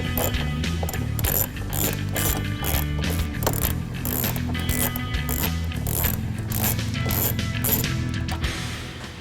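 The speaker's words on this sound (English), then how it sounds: "we're going to remove these two screws with a 7mm socket" A ratchet with a 7mm socket backs out screws on a Ford F-150 trim panel. It makes rapid, close clicking in repeated bursts, loud and clear with no talk.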